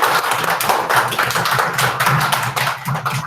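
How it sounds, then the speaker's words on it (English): Steady, loud clapping from a school assembly audience celebrating the Hazel class, many hands in a continuous crisp patter close by. "if you'd like to give our Hazel class stars a big clap"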